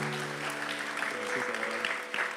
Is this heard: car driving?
no